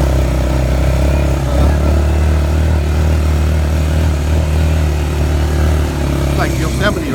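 An ATV engine drones loud and steady while riding up a mountain road near Jaco, Costa Rica, a continuous low rumble with wind buffeting and a brief clatter near the end.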